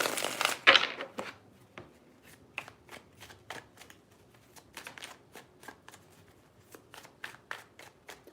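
Tarot cards being shuffled by hand: a burst of riffling followed by a string of soft, quick card taps and slaps, close and quiet.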